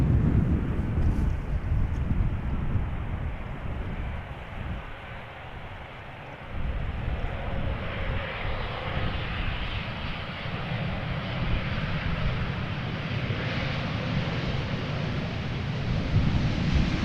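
An airliner arriving at Amsterdam Schiphol from Glasgow roars past as a loud, sustained jet engine rumble, dipping briefly before swelling back into a broad, steady, wind-like roar.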